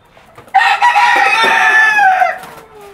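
Brown cock rooster giving a single loud, close crow lasting about two seconds, the call rising and then trailing off.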